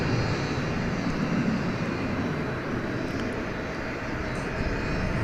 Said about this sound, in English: It's a 757-200.